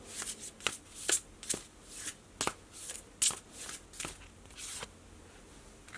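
Mermaid Oracle cards are shuffled by hand in a quick series of crisp riffling snaps and soft slaps, close and clear with no talking.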